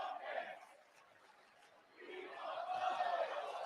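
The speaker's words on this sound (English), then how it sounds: "Wait, what's the crowd chanting?" Wrestling crowd heard faintly in the distance, a murky chant that swells, dips briefly, then rises again louder.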